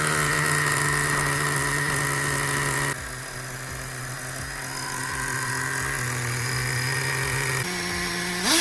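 A Traxxas Revo 3.3 nitro RC truck engine idles steadily nearby, a buzzy, even drone that dips slightly partway through and then revs up briefly at the very end, with no talking.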